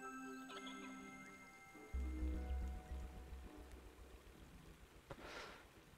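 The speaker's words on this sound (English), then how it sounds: "we still get to hear our beautiful little fairy sounds" Delicate chiming fairy sounds from the video game Sword and Sworcery: faint tinkling ticks and sustained bell-like tones with a low hum, some watery rustle beneath, quiet and airy.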